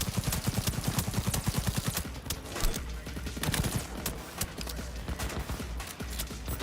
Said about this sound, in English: I have almost used up like 600 rounds of ammo on this guy